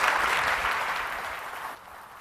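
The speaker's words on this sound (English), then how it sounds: "a round of applause for Federico Faggin" An audience at the 2015 IONS consciousness conference applauds speaker Federico Faggin, a dense burst of clapping that fades as it tails off after a couple of seconds.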